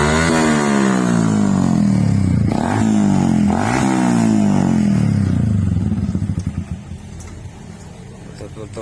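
A motorcycle with a loud modified knalpot brong exhaust revs hard and close during a Saturday-night police exhaust raid, its pitch climbing and dropping in repeated surges before settling to a lower idle near the end.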